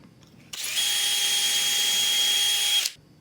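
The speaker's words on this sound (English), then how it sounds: "Then you just drill it." A power drill drilling dowel holes in wood with a JessEm dowel jig whirs steadily for about two seconds, starting abruptly and cutting off cleanly, loud and close with a high-pitched whine.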